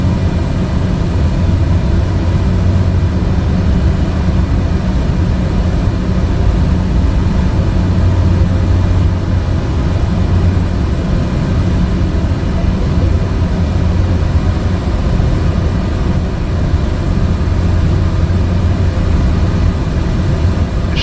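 A propeller aircraft cruises in Microsoft Flight Simulator over Mozambique, with a loud, steady, low engine drone and hum that stays constant and unbroken throughout, with no voices.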